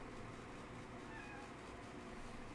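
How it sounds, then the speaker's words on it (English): A house cat meows once, faint and brief, over a low steady background hum. "Sorry, the cat's coming here."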